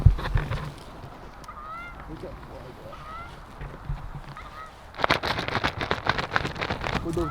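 Geese honk in flight outdoors on a hunt, with faint scattered honks at a distance that grow into a denser, louder chorus of calls over steady background noise.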